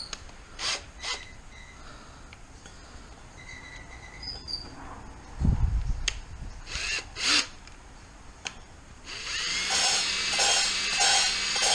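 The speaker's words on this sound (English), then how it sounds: "Stick it in the drill." A power drill spins an engine part from a Toyota Celica rebuild to cut it down, with short whirring bursts, intermittent scraping and clatter, then a sustained louder grinding run toward the end.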